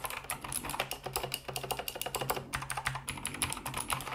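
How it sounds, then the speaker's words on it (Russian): Rapid, crisp clicking of a Tronsmart TK09R RGB mechanical keyboard with blue switches, a fast uneven stream of sharp keystrokes close up with no voices. "это клик, и она капец какая громкая, вы просто послушайте"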